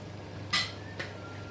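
A metal spoon taps twice against a cooking pot while adding a spoonful of ground green chili to a mutton qorma, giving a sharp clink followed by a fainter second tap over a low background hum.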